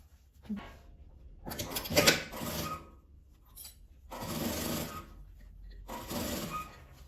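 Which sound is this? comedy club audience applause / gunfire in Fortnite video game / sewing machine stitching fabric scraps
sewing machine stitching fabric scraps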